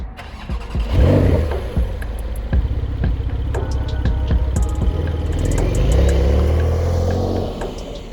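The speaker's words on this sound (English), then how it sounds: "You do need to get the sports exhaust package for the bass to sound this good." A Porsche 911 Carrera (992) with sports exhaust fires up with a loud bark, then rumbles and revs with a deep, throaty exhaust note that rises and settles.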